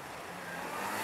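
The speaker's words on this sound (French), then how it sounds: "Toutes ces bagnoles, on n'entend que ça, quoi." Urban car traffic in Marseille, a continuous wash of engine noise that swells slightly as a vehicle draws closer.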